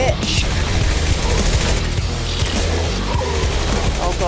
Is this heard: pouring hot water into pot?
no